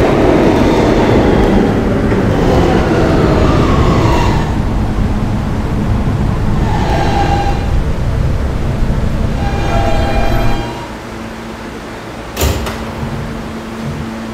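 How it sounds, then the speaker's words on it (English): Roblox R160B Siemens subway train on an E line runs loudly with a steady rumble, then slows near the end with a brief sharp tone and softer noise after; no talking. "This is a Bettendorf bound E train."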